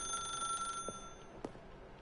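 A telephone rings in The Stanley Parable video game as a steady electronic trill that holds faintly in the background, with a couple of soft clicks and no voices.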